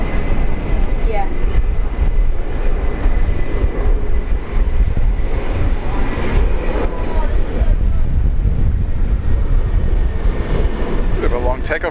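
A Velocity 464 airliner makes a long takeoff roll departing Brisbane International, heard as a loud, continuous broadband engine roar that stays steady from a nearby spotting position, while people talk over it.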